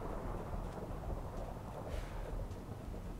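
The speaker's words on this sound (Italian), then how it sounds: "Si è visto un tuono." Low rumbling thunder in Minecraft, a steady deep roll with a brief brighter crack near the middle, moderately quiet and without speech.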